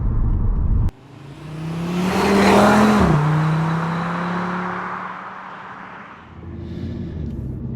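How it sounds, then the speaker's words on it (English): An Audi RS3 Sportback with all-wheel drive accelerates hard, its engine roaring loudly and rising in pitch before a sharp gear change, then pulling on and fading as it drives away. "The front wheel's really scrabbling for grip, and then once they hook up, wow, acceleration's just phenomenal."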